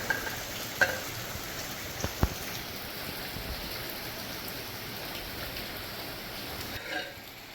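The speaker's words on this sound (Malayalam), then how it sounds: "അരവ് നന്നായിട്ട് തിളക്കുന്നുണ്ട്." Ground fish curry paste for a Kerala-style mullet fish curry bubbles in a pot, a soft, steady hiss and crackle of boiling with a few sharper pops, faint and continuous with no voices.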